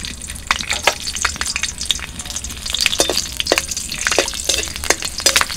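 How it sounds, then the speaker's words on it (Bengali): Dry red chillies and green chillies crackle and sizzle in hot tempering oil for frying red amaranth greens, a dense run of sharp pops and spits over a steady hiss, close and fairly loud with no talk. "ফোড়নে দিয়ে দিচ্ছি শুকনো লঙ্কা"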